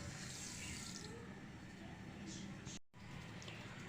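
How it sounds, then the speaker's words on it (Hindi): Water pours steadily into a pot for qehwa, a continuous close splashing rush that briefly breaks off near the end. "और 2 कप जो है हमें पानी डालना होगा"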